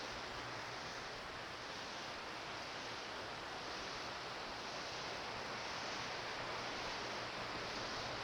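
Man-made waterfall in the grotto of the Hyatt Regency Grand Cypress Hotel near Orlando, Florida, a steady broadband rush of falling water that stays even and close throughout, with no voices over it.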